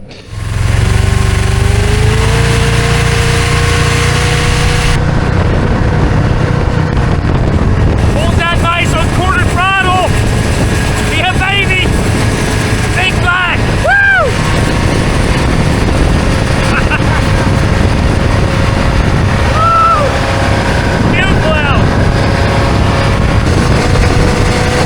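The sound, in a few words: 70s big block jet boat engine running rough and stalling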